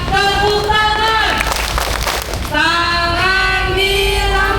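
At a scout camp opening ceremony, a crowd sings loudly together, and a burst of rhythmic hand clapping along to the song breaks in midway, all close and lively.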